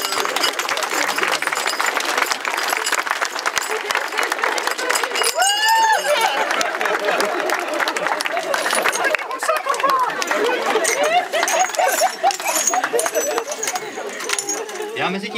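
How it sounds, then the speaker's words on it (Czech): A crowd claps steadily at a parish celebration for a deacon in front of St. Procopius, a dense even patter that holds for about fifteen seconds with voices and chatter mixed in. "Potlesk."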